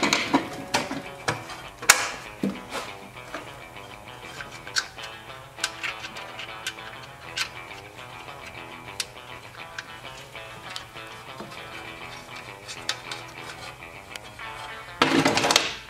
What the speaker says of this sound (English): My little ratchet wrench.